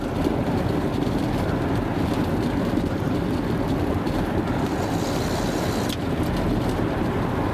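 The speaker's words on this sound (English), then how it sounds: "I think we're running next to a motorway, I think, that's beside us" Steady motorway traffic roaring close beside a country cycle ride, a continuous dense rush of passing vehicles with wind noise and no pauses.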